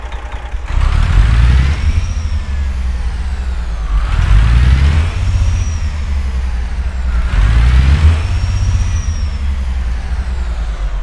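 A Detroit DD60 380-horsepower 12.7-liter diesel with an 18-speed gearbox in American Truck Simulator pulls loud and close, revving up through three repeated gear shifts with a steady rumble underneath.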